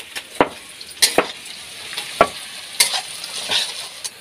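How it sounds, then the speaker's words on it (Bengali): Onions sizzling in a hot wok (kadai), with a soft steady frying hiss broken by several sharp spatula scrapes and clacks spaced through the few seconds, close up and with no talking. "তো পেঁয়াজ চাপিয়ে দিয়েছে কড়াইতে।"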